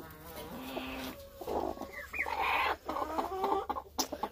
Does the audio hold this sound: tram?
no